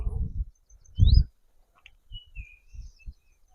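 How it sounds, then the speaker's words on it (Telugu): Birds chirp in dense forest near a tribal village, a few thin high whistles and tweets scattered through the clip, with low thumps and rustling nearby and a brief voice-like burst early on. "చూసారా పిట్టల సప్పుడు"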